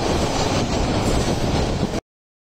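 Packed passenger train, the Upakul Express, rolling past with crowds of people riding on its roof; a loud, steady rumble of carriages and wheels fills about two seconds, then cuts off abruptly.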